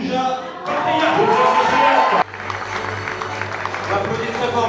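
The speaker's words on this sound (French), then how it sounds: "On applaudit très fort, mesdames, messieurs" Audience applause at an awards ceremony: dense, steady clapping from a large crowd fills the room after a short musical sting and continues evenly to the end.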